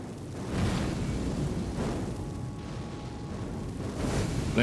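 Fire spell cast on a group of enemies in the video game Elden Ring, a dense roaring, crackling burst that swells on and off across the whole stretch, loud and continuous with no talking.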